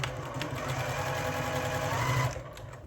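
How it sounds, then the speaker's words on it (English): A sewing machine stitches Dresden wedges for a quilt block, running at a steady hum close by for about three seconds before easing off near the end. "I'm going to just sew on one of these Dresden wedges."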